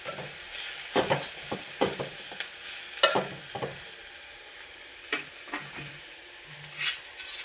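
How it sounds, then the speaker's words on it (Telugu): Tomato pieces are stirred into a black gram and eggplant curry in a pan, giving a series of close, irregular scraping and clacking strokes over a soft background sizzle. "టమాటా ముక్కలు వేస్తున్నానండి. ఇవి ఒక్కసారి బాగా కలుపుకోవాలండి."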